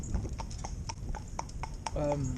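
A Morgan horse walking out single in harness for the first time, hooves clip-clopping in a steady even rhythm at close range, with a voice speaking over the hoofbeats and a brief whinny-like sound near the end.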